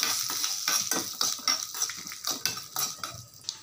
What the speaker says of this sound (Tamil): அதில் நம்ம முந்திரி பருப்பை வறுத்துக்கலாம்.